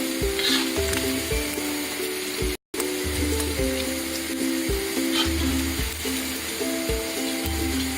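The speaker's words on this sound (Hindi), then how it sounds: "जब तक हम अपना चिकन फ्राई कर लेते हैं। और ब्राउन कर लेते चिकन को" Chicken pieces fry and brown in a pan for honey chicken, with a loud, steady close sizzle and occasional stirring clatter over faint background tones and a brief dropout partway through.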